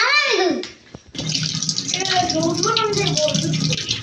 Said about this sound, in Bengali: যাও আমও ধুয়ে ফেলি